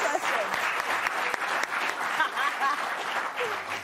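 A studio audience applauds warmly for several seconds, a steady wash of clapping at moderate level with a few voices and cheers mixed in.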